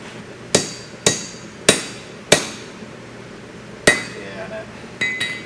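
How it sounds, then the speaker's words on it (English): Sharp metallic blows of a brass mallet striking lathe parts to straighten them during a Monarch 10 EE lathe rebuild: four evenly spaced close, ringing hits, a pause, then another strike and a couple of lighter taps. "Brass mallet's working really well for this."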